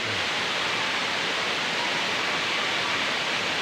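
Tonago Falls waterfall in Iligan City pours in a dense, steady roar of rushing water, loud and unbroken, with no voices over it.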